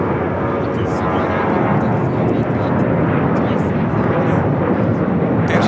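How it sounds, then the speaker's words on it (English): Alaska Airlines jet roaring down an LAX runway on takeoff, a loud, steady broadband engine rumble that holds strong throughout, with voices talking over it. "That's Alaska Airlines 294 taking off to Loretto"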